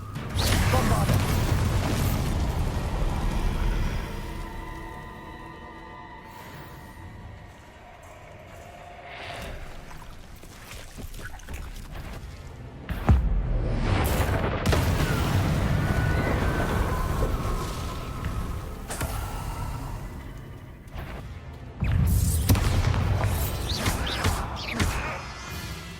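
Bombarda blasting-spell explosions in Hogwarts Legacy burst out as heavy booms and crashes amid rumbling game sound, with a couple of louder blasts standing out from the ongoing action.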